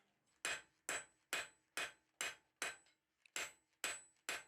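A hammer strikes a hot steel bar about ten times in an even, deliberate rhythm, upsetting its end while forging a socket chisel; each blow rings sharp and close, with brief quiet between strikes.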